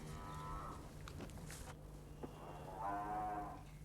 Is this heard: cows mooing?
yes